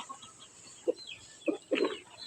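Backyard chickens give a few short, soft clucks close by against a steady background hiss, with no one talking.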